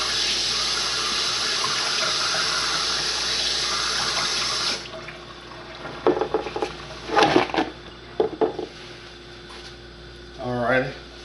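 A kitchen tap runs steadily while hands are washed for about five seconds, a close, even hiss of water. It then shuts off, followed by a few light knocks and handling sounds and a short voice.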